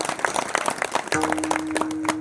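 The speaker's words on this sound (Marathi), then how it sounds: "एकदा टाळ्या वाजून आपण सर्वांचं स्वागत करू" An audience at a kirtan in Kolpa breaks into applause of welcome, a dense patter of clapping that continues under a steady background hum.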